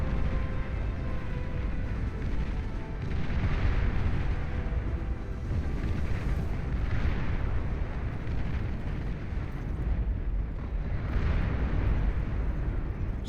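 Artillery booms from a destroyer in the real-time strategy game Beyond All Reason, a continuous rumbling barrage of distant blasts in an 8v8 deathmatch, dense and steady throughout with no clear single shots.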